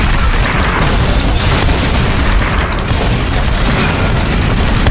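A loud, dense roar of explosions fills the scene in the Roblox game Typical Colors 2, continuous booming rumble without pauses or talk.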